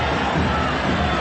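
A big football stadium crowd roars steadily at a Copa Libertadores match between Tolima and Corinthians, a broad, continuous wash of cheering with no break.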